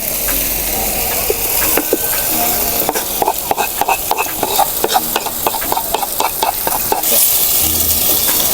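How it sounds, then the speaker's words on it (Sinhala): Coconut masala is stirred into garlic and ginger paste frying in a pan, with a steady sizzle and repeated scraping, clacking strokes of the spoon, close and loud. "අපි මේකට දාගන්නවා අපි හදාගත්තු පොල් මසාලා මිශ්‍රණය"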